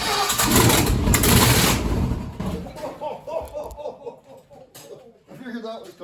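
LS-swapped 1985 Camaro engine cranking, then catching and revving loudly up close, settling into a lumpy, knocking idle as people talk over it.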